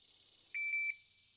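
A shot timer sounds three quick electronic beeps, clean and fairly close, against near silence at a shooting setup.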